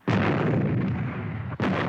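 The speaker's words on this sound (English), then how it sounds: "big explosion at the site of the missing temple" A big explosion at the site of a missing temple in a Thunderbirds puppet adventure: a loud, sustained roaring blast that rumbles for over a second, followed by a second sharp burst, with no talk.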